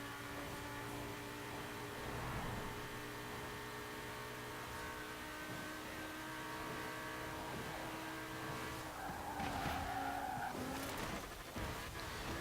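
A 1964 Jaguar Lightweight E-Type in Forza Horizon 4 drones steadily at speed, then its tires squeal briefly as it skids through a corner, engine tone held near and moderately loud throughout.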